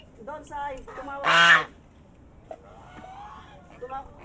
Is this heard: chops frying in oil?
no